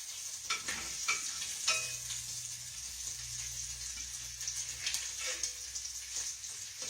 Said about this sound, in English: I don't want my bacon to burn.